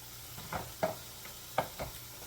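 Chopped meat browning in a pan for enchiladas, with a few sharp scraping stirs against a low, faint sizzle, spaced irregularly and close by, with no talking.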